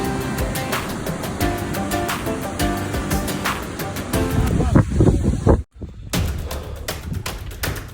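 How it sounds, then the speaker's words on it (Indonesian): Strong stormy wind on the approach to the summit of Mount Sumbing via Butuh, Kaliangkrik, roaring steadily against the microphone with gusty buffeting and a brief dropout; faint voices come and go beneath. "badai, angin kencang."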